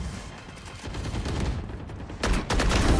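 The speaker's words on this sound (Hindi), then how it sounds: "मैं पीछे से कौन मेरे को गोली चला रहा है?" Rapid bursts of automatic gunfire from a Valorant match, loud and dense, with a sharper, heavier volley near the end; no talking.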